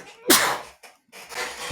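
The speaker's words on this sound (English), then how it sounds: "I'm going to sneeze." A single sudden sneeze bursts out close to the microphone, sharp and loud, then trails off into a couple of softer breathy sounds.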